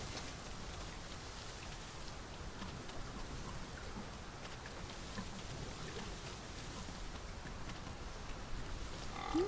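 Steady rain falls in the fantasy role-playing game Dragon's Dogma 2, a dense, even hiss of drops on surfaces that carries on without a break, near and fairly loud, with no voices over it.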